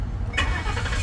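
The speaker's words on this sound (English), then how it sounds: "I'm gonna start the car first." A 2011 Ford E-250 van with a 4.6 L engine cranks and catches, the starter's brief whir giving way to a loud, rumbling idle close to the microphone.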